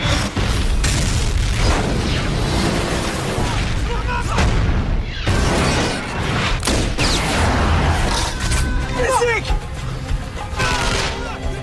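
A dense, continuous roar of loud booms and rumbling blasts, with overlapping impacts and heavy low-end throughout, like explosions in an action scene.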